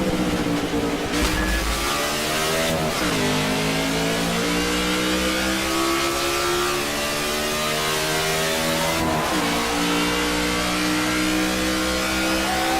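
A race car engine in NASCAR '14 screams at sustained high revs, its pitch climbing steadily with two sharp dips as gears shift, loud and continuous with no voices.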